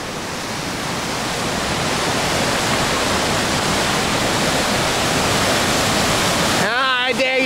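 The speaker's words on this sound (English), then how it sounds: "But we made it to this cool river." Glacier-fed river near the Upper Glacier at Grindelwald rushes loudly and steadily, a dense broadband roar of fast water throughout, with a voice starting briefly at the very end.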